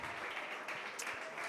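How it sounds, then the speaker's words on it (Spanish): A church congregation applauding during a service, a short burst of dense, steady clapping that fills the room without voices on top. "Damos el aplauso al maestro en esta hora."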